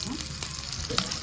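Butter and oil heat together in a frying pan, giving a steady soft sizzle and light crackle throughout, close and fairly quiet with no talking.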